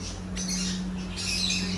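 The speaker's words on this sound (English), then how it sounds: "The African lovebirds." African lovebirds in a pet shop cage give a few faint, high chirps and squeaks over a steady background hum, quiet and somewhat distant.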